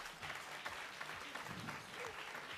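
Audience applause in a studio talk-show setting, a steady wash of many hands clapping at moderate level for about two and a half seconds with no talk over it.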